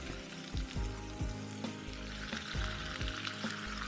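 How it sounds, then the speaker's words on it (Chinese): Pieces of whitefish slide into a small pan of hot oil for a ginger dish and set off a steady, close sizzle, with several soft thuds as each piece lands. "然后我们现在再把"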